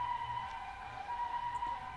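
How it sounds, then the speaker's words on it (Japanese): An ambulance siren wails faintly in the distance during a quiet walk through a Japanese garden, with a soft steady outdoor hum around it. "遠くで救急車の音がしますね。"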